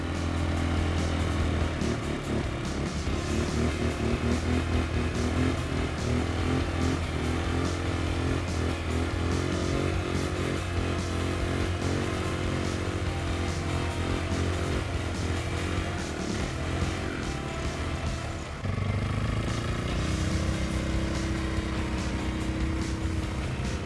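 A CF-Moto 500 and a Sharmax 620 ATV drive over rough ground, their engines droning continuously and close for over twenty seconds, with pitch shifting as throttle changes and no voices.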